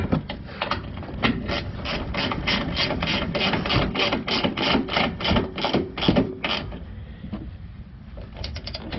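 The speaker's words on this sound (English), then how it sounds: "And again, pivoting head ratchet." Pivoting head ratchet tightening suspension bolts on a 2020 Ford F-150 during a 2-inch leveling kit install, a fast run of close, sharp ratcheting clicks in bursts, then a brief pause and a few more clicks.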